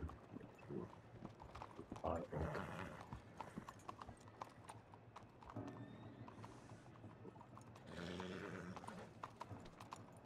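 Horse hooves clip-clopping in the Red Dead-based roleplay game WildRP, uneven close hoof strikes with a brief neigh, while people talk over them.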